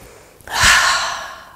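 A single deep breath drawn in through the nose and mouth during a yoga breathing exercise, close and loud, starting abruptly and swelling into a long airy rush before easing off.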